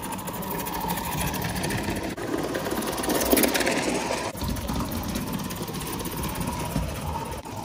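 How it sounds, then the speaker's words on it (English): A circa 1928 Bowman 265 live steam model locomotive warming up, a steady close mechanical running noise with a rapid chuffing texture that continues evenly throughout. "Here, the engine is just warming up."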